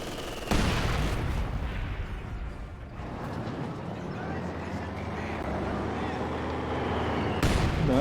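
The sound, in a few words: mortar fire in the video game Company of Heroes 2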